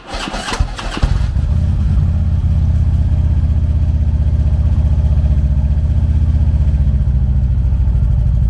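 A 2012 Harley-Davidson Electra Glide Ultra Classic with a 103 cubic inch V-twin cranks and fires up, then settles into a loud, steady, throbbing idle close by, with no talking.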